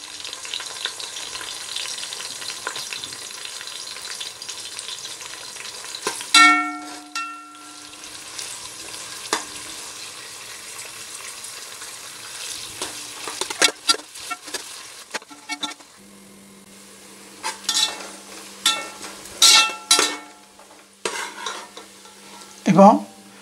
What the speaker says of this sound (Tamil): வெங்காயம் நல்லா பொன்னிறமாக வர வரைக்கும் நல்லா வதக்குவோம்.